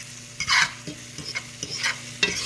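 Onions and green onions sautéing in a pan, with several distinct scraping stirs of a utensil in an uneven rhythm over a soft, low sizzle, close and clear with no voices.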